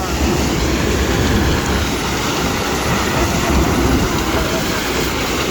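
A heavy tractor shredding wood roars continuously nearby, a dense grinding rumble with crunching and rattling, steady and loud throughout.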